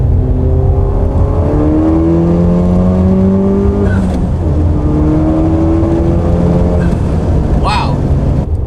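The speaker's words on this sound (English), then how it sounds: "Third gear, rolling anti-lag." A turbocharged Honda Civic Type R accelerates hard in third gear with rolling anti-lag, its engine note climbing steadily in a loud, close in-cabin drone, with brief voices over it near the end.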